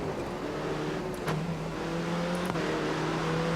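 Open-wheel race car engine in the Grid Autosport racing game, a steady tonal drone holding a sustained pitch with small shifts, close and continuous, with brief clicks near the start and middle.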